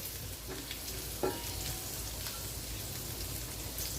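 Garlic frying in butter in a pan, a steady crackling sizzle close by with small pops, no voices over it.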